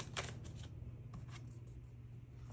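Tarot cards are shuffled in a quiet room, with quick riffling bursts at the start and another around the middle, then a softer rustle, faint and close, with no speech.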